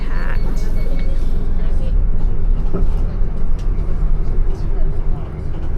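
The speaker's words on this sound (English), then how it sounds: "It was a 30-minute bus ride that went pretty smoothly." Interior of a packed city bus riding through Tokyo: a loud, constant low engine and road rumble with faint rattles, and people talking over it.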